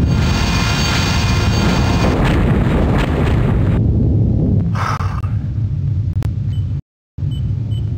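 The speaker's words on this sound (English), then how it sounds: "Torpedo self-destruct, sir." A torpedo self-destructs in the submarine combat game Silent Steel, a loud, sustained explosive roar and rumble that thins out partway through and cuts briefly to silence near the end.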